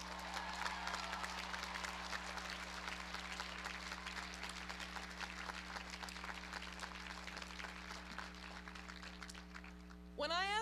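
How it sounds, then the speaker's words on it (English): A large commencement crowd outdoors at a university graduation applauds for families, a broad steady wash of clapping under a constant low hum, ending as a voice begins to speak. "let's seize this moment to thank all the parents, grandparents, siblings, spouses, partners, and friends here today with a great Penn round of applause"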